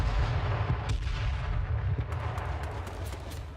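A grenade blast in a competitive shooter video game opens with a loud, heavy boom, and a deep rumbling tail follows with scattered sharp gunshot cracks over it, no commentary heard.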